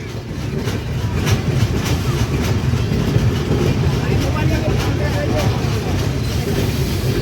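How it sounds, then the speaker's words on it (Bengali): The Chitra Express rolls into Joydebpur station with a loud, continuous rumble and rhythmic wheel clatter, close by, while voices murmur underneath. "চিত্রা এক্সপ্রেস জয়দেবপুর প্রবেশ করছে"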